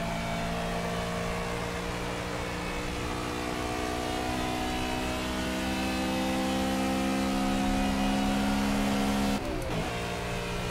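An LMP race car engine in the Project Cars video game screams steadily at high revs on the Nordschleife, a loud, continuous droning whine with layered harmonics and a brief shift near the end.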